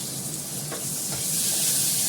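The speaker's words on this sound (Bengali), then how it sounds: "একটু পেঁয়াজটা ভাজা ভাজা করে নিয়ে" Onion frying in a little oil in a home kitchen, a steady close sizzle and hiss with faint stirring, rising slightly in loudness toward the end, with no talking.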